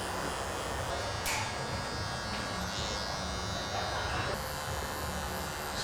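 Electric hair clippers buzz steadily and close up while fading a taper haircut, the whine shifting slightly as the blade moves through hair, with occasional soft handling noises.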